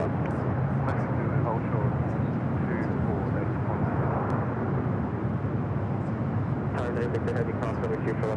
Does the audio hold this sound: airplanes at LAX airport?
yes